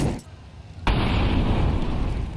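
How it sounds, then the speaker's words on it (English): Grenade blast in Counter-Strike 2 at a pro match, IEM Cologne 2025: softer game noise, then a sudden loud explosion at under a second that settles into a sustained roaring rumble. "So many nades thrown out towards that yard position."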